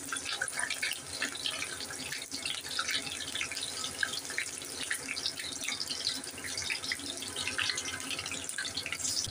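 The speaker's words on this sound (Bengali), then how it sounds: "আমি ভেজে নিচ্ছি।" Fish and lentil kebabs fry in a small amount of oil, giving a constant crackling sizzle with dense bursts of popping at moderate volume and no talking.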